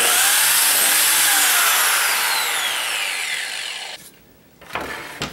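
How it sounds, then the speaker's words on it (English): A biscuit joiner cuts into a wood edge, a loud, steady high-pitched whine of power-tool cutting for about four seconds, then a brief pause before the motor kicks in again; no talk. "I'm lining up this part of my biscuit joiner with the edge of the wood."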